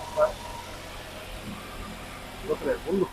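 A 1983 Ford Fiesta XR2 idles on choke, a low, steady engine rumble in the background while someone speaks briefly over it.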